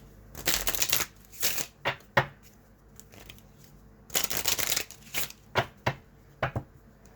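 A Kipper fortune-telling card deck is shuffled by hand in two bursts of crisp riffling and flicking, followed by a few short sharp slaps as the cards are squared, close and alone with no talk.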